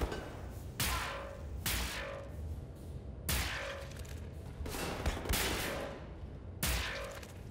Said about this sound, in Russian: я в него в упор стреляю лазером